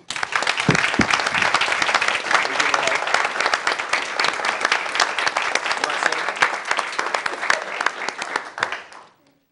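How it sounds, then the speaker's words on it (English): Council meeting attendees give a departing council member a sustained round of applause, thick, steady clapping that holds for about nine seconds before tapering off quickly. "I think we all owe her a round of applause"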